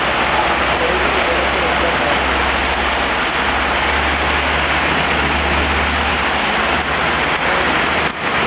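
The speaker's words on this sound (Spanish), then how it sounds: "Esta es una lluvia que acaba de caer acá." Steady, heavy rain pours down in Madrid as a dense, constant hiss of water striking surfaces. A low engine rumble sits underneath throughout, with no break in the downpour.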